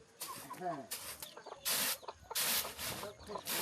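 Chickens cluck and squawk close by in a mountaintop Kui hill village in Laos, where households raise their own livestock. Short, uneven calls come in bursts, with a rooster-like cry among them and some rustling between.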